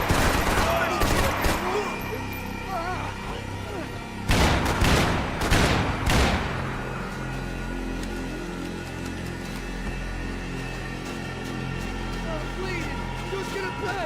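Game gunfire from Max Payne 3: bursts of rapid shots crackle through the opening seconds, with a dense volley around the fourth to sixth seconds, then continuous sustained firing and background game noise under intermittent shouting voices.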